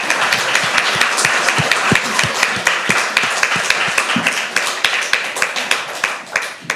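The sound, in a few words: applause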